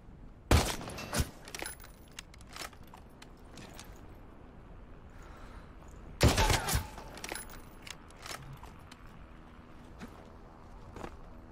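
Gunfire in the battle-royale game Super People: two loud bursts of shots near the start and around the middle, with scattered sharper cracks and faint background activity between them.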